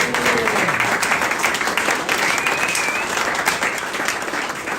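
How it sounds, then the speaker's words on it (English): A crowd at an awards night gives a round of applause, dense continuous clapping, loud and close, with a few faint whistles and no talk heard over it. "So big round of applause to the Aldridge family team."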